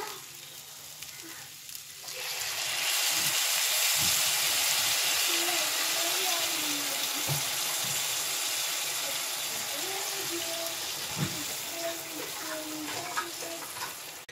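Vegetables sautéing in a pot give a soft sizzle, then a loud broad hiss and bubbling rush rises about two seconds in as meat broth for a vermicelli vegetable soup pours in, continuing steadily with occasional stirring clinks.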